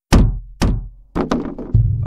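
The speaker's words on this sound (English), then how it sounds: "A couple thuds on the outer wall of the cabin" Several heavy, close thuds strike the outer wall of a cabin at night, the first two spaced apart, then a clustered run of knocks with brief rattling decay, no voices.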